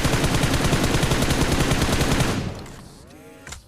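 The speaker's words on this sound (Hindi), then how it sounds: "और मैं उसके ऊपर फायर करता हूँ।" Rapid automatic gunfire in the battle royale game BGMI, a loud sustained burst of shots that stops abruptly and leaves a quieter tail with a final thud.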